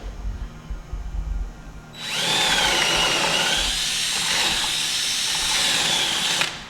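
A power drill bores into a wooden block while building an arcade cabinet, a loud steady whine that starts abruptly after a quiet moment and holds for several seconds before cutting off.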